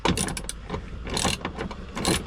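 A spanner turns a bolt inside the battery compartment of an Iveco Daily van. Close metallic ratcheting clicks come in quick, uneven bursts with no talk.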